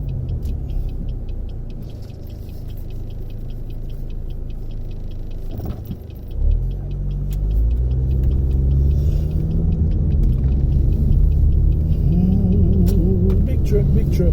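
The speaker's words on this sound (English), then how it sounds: "Big truck." A big truck passes on the road, heard from inside a vehicle running on Ohtsu tires; a deep rumble swells midway and stays loud over steady road noise, with a voice speaking.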